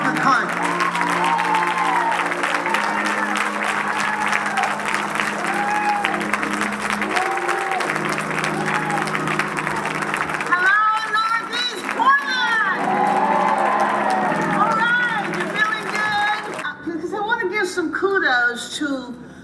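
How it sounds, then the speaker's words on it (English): Audience at an MLK Day celebration rises for a rousing round of applause and cheering for a state senator, with dense sustained clapping, shouts and whoops for most of the stretch before it thins out near the end. "give a rousing round of applause to our Senator, Miss Margaret Carter"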